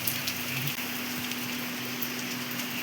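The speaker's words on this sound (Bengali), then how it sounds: "বৃষ্টি শুরু হয়ে গেছে" Rain falls outside at dawn as a soft, even hiss, with a faint steady hum running underneath and no voices.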